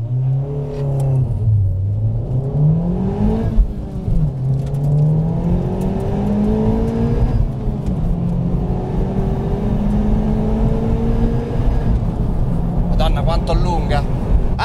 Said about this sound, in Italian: Voglio sentire questo motore.